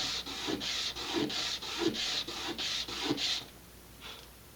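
Burrs filed off a small part of an Estes Vanguard Eagle model rocket, a run of about nine short rhythmic rasping strokes up close, then a pause and one faint final stroke.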